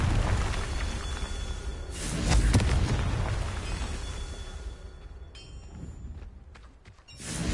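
A Confringo blasting spell going off in Hogwarts Legacy, a loud, rumbling explosive burst that swells in the middle and then fades into a lingering roar, followed by quieter magical tones and a final surge.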